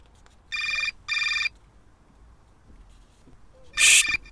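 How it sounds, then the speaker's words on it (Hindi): A phone rings in three bursts: two short electronic trills close together, a pause, then a louder, brighter third ring, in an otherwise quiet room. "फिर आ गया फोन।"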